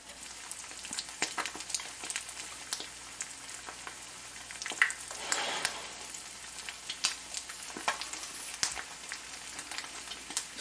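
Eggs sizzle and crackle steadily in an unseasoned carbon steel pan over rising heat, a soft continuous frying hiss with scattered pops, fairly quiet and heard alone.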